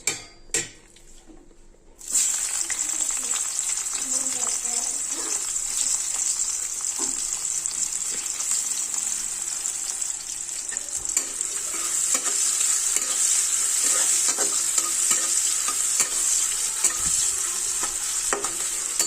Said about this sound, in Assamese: এইখিনি অলপ ৰঙচুৱা হোৱালৈকে ভাজি ল'ম।